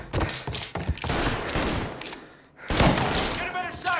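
Gunfire in a Mafia: Definitive Edition cutscene, a burst of several loud, close shots in quick succession, a short lull, then more heavy shots, mixed with shouting voices.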